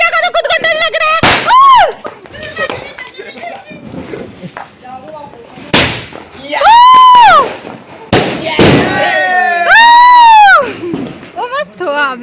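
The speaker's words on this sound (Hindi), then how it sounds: "ये देखो उठा ही लिया इन्होंने तो पटाखा, वापस जलाएंगे, लेकिन जलाएंगे।" Firecrackers are set off outdoors during Diwali, sharp pops and bursts ringing out amid loud whistling rockets, with children and adults shouting and talking throughout.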